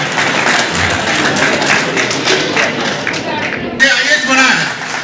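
An audience claps at a community celebration honoring Sant Sri Gora Ji Maharaj, steady applause under someone speaking over a microphone, ending in a sharper burst of clapping.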